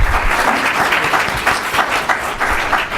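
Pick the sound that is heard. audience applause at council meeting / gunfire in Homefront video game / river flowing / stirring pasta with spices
audience applause at council meeting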